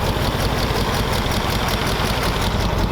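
A 1932 Ford roadster engine idles low and quiet, giving a steady, even rumble with a soft rhythmic pulse and no voices.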